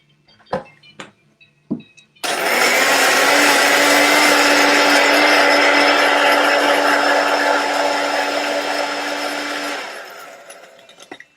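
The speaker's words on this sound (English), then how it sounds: "Throw it on the blender." Countertop blender whirs loudly and steadily for about eight seconds, crushing ice into a purple-blue tiki cocktail, after a few sharp knocks of the lid and jar being set in place, then winds down.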